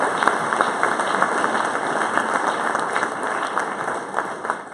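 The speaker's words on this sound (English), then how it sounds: "Big round of applause for those that serve in amazing ways." An audience applauds at a service promotion ceremony, a dense, even wash of clapping that holds steady throughout without any voices over it.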